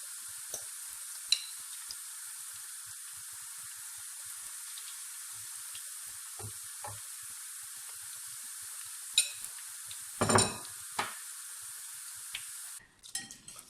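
Dandelion flowers frying in oil, a quiet steady hiss of sizzling with a few louder pops and spatters, and a brief burst of crackling near the end.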